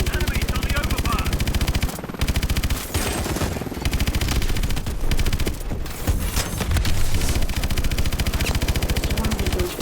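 Dense automatic gunfire and rocket blasts from the video game Call of Duty: Advanced Warfare rattle almost without pause, loud and close, with short gaps between bursts and game voices calling out over the combat.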